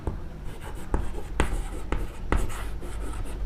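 Chalk or pen writing on a board during a Class 10 quadratic equations math lesson, a series of close scratchy strokes with sharp taps between them, continuous over a few seconds.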